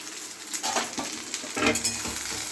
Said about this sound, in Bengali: গ্যাসটা একদম কমিয়ে ঢ্যাঁড়সটাকে এবার ভাজবো